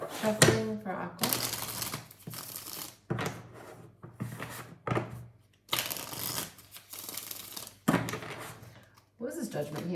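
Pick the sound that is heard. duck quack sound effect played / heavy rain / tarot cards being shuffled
tarot cards being shuffled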